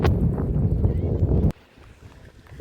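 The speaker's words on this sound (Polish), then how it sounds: "Teraz się bardzo duży wiatr zebrał, że naprawdę trochę wieje." Strong wind by the beach near Kardamena, Kos, Greece, roars and buffets the microphone for about a second and a half, then suddenly drops to a much quieter, gusty rustle.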